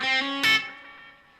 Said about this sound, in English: This one also has the swell mode, which is obviously meant to be like a reverby kind of thing.